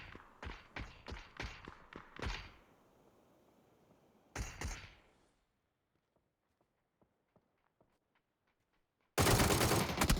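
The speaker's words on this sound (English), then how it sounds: "Anubis is going to come in with side shots onto Weeb." Gunfire in a PUBG match, with a rapid burst of about eight sharp shots, a short pause, then another quick burst, followed by faint footsteps and a sudden loud blast of noise at the end.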